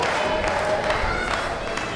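Steady roar of a wrestling crowd at Heritage Hall during an Arizona state championship bout, cheering with scattered clapping, a dense continuous wash of voices that holds level throughout.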